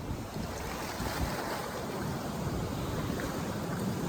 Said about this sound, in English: The foam, the sloshing.